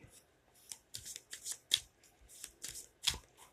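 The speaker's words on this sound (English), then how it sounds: "And we'll just do shuffle and we'll do a cut." Tarot cards are shuffled by hand in a rapid series of crisp riffling bursts and soft slaps, close and quiet, with a few brief pauses between strokes.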